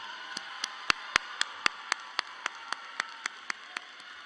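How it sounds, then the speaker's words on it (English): Graduating class at a high school graduation ceremony clapping in a steady, even rhythm, about four sharp claps per second, fairly faint over a hissy room background. "Class of 2026, give yourselves a round of applause right now."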